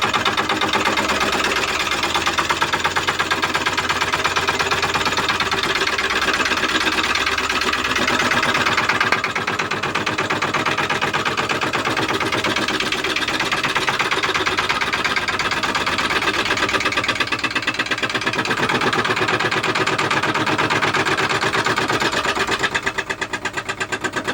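A milling machine fly cutting a tooling plate, giving a steady, loud mechanical whir with a continuous rhythmic chatter that holds without a break from start to finish.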